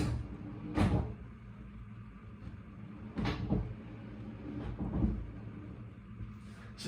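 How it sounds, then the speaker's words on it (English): Someone rummages through a kitchen cupboard, with three distinct knocks and thuds of doors and items being shifted, spaced a couple of seconds apart over a quiet background. "I'm just looking through the cupboard here"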